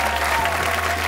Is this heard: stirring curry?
no